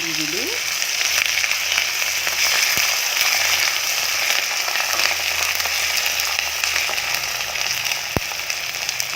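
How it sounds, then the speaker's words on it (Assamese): Chopped onions sizzling and frying in a pan while making cauliflower curry, a steady dense hiss with faint crackle running the whole time, close up and alone. "পিঁয়াজখিনি ৰঙচুৱাকৈ ভাজি ল'ম।"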